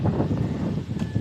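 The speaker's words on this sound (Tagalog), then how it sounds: "Hangin-hangin gyapon" Steady wind noise buffeting the microphone on a farm field, a continuous low rumble with gusty swells throughout.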